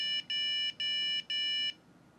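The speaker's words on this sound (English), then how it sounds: "If I counted right, that was 4 short beeps" A server motherboard's error beep code after swapping in regular non-ECC memory: four short, evenly spaced electronic beeps, clear and fairly loud, then silence.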